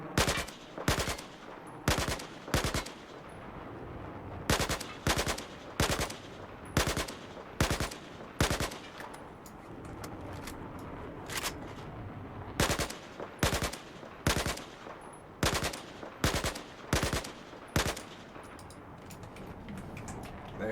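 Burst-fire gunshots from a Battlefield 4 test range, loud sharp cracks fired in short clustered groups with brief pauses between bursts, repeating steadily throughout.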